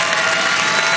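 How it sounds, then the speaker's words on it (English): Dense, steady applause fills a gala ballroom, loud and close, a continuous wash of many hands clapping without a break. "Have a round of applause for Jack."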